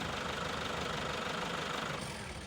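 A Toyota Fortuner's 3.0 litre engine idling with a steady, dense rumble and faint knock, then dropping off as it shuts off automatically near the end.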